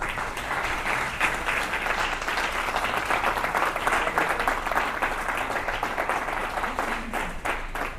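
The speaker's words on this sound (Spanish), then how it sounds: "Dale un aplauso al Señor." A church congregation gives sustained applause, thick continuous clapping that stays loud and even for about eight seconds, with faint crowd murmur underneath and no clear speech.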